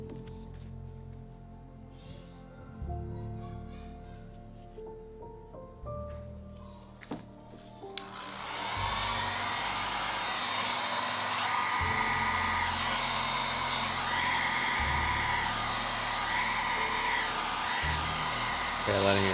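After some quiet handling noises, a hair dryer switches on about halfway through and blows a loud, steady rushing hum over an alcohol ink painting until the end.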